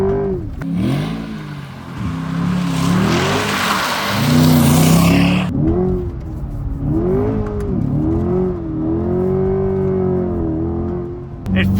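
A Chevrolet Corvette C8 sports car engine revs hard and rises and falls in pitch as the car slides, close up, with tire noise and a gear change from first to second.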